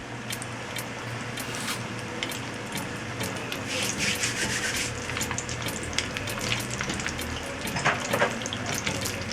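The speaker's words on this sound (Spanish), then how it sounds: "derecho a la freidora. Aceite medio alto" Stuffed onion rings frying in a deep fryer of medium-high oil, a dense steady sizzle and crackle with scattered sharp pops, close and continuous throughout.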